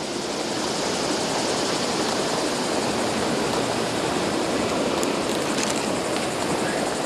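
A waterfall at a saltwater fishing spot, where a tarpon is hooked below, rushes in a steady, loud, unbroken roar with no talk over it.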